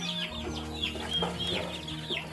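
Young chicks separated from their mother and being raised by hand, set out in the sun, cluck and chirp in a steady stream of overlapping calls, close by and moderately loud with no talking.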